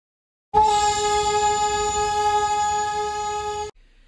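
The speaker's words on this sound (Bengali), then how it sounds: "কিছুটা গিয়েই দেখা মিলল দার্জিলিংয়ের বিখ্যাত সেই টয় ট্রেনের, কিন্তু এইটা ডিজেল চালিত।" A diesel-powered Darjeeling toy train sounds its horn, one loud sustained tonal blast lasting about three seconds, close and alone, then cutting off sharply.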